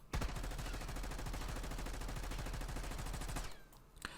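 Sustained automatic fire from an XM4 rifle in Black Ops 6, a rapid, steady stream of loud close shots lasting about three seconds before stopping, followed by a few faint trailing sounds.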